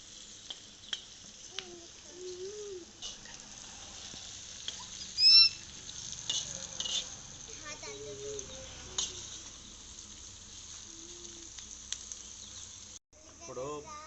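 Onions browning in a pan for a two-kilo chicken curry, a quiet steady sizzle with faint stirring scrapes, heard close but low in level, with no talk over it.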